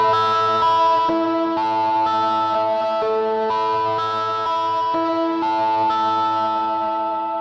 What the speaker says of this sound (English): we've got like a distorted kind of tone under there, and we've got like this these bells